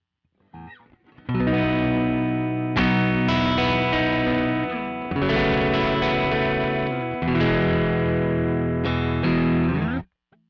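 Heavily distorted electric guitar chords through a SansAmp plugin's JMP1 preset, drive dialed down slightly, ring out sustained and saturated with a chorus-like shimmer, played in several long strums.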